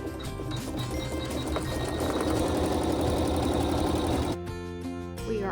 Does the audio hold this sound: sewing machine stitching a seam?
yes